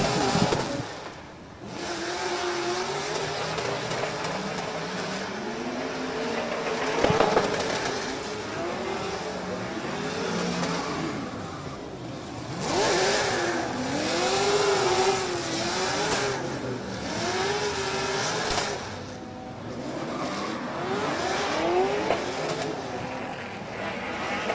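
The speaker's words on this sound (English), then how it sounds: "Listen to the screams of this 180SX as Taruk Al-Shahani brings it over the line" Nissan 180SX drift car engine screaming at a drift championship qualifying run, revving repeatedly up and down and rising and falling in pitch over a long pass, with crowd and ambient noise underneath.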